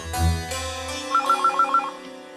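A telephone rings in a TV drama scene: a burst of music-like tones, then a rapid repeating electronic ring pulsing about five times, fairly loud and alone with no talk.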